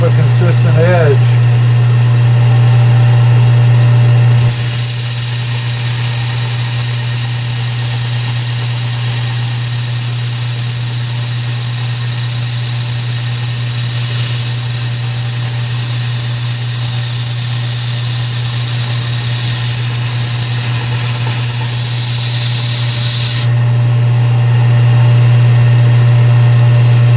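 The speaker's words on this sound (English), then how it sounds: "Starting to refine the edge, it's looking better. Make a few more passes." A knife blade ground against a Kalamazoo 1x42 belt sander while refining the edge, a loud sustained broadband grinding hiss running steadily for about twenty seconds over a constant low motor hum, starting and stopping abruptly.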